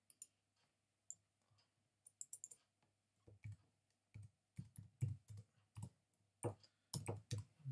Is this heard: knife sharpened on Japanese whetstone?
no